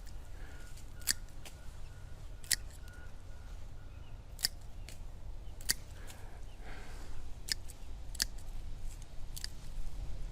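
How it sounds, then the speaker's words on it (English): Pruning shears snip through a plant's root section while heeling in plants for winter, giving a series of sharp, close clicks spaced a second or two apart over a quiet outdoor background. "I can go ahead and cut this off right here."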